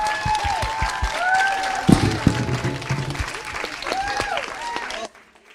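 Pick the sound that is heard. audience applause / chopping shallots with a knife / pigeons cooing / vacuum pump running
audience applause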